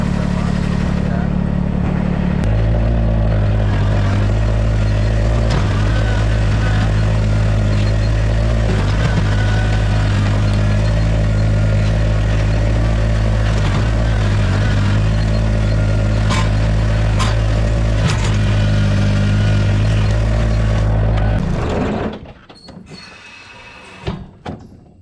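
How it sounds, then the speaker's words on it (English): A small Kubota BX compact tractor works on a lawn installation, its engine droning steadily and loudly up close before cutting off near the end. "I'm using this little BX tractor"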